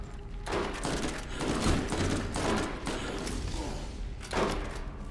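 Borderlands video game combat: repeated gunfire bursts and heavy thuds roll on through the whole stretch, loud and busy, with a few stronger blasts standing out.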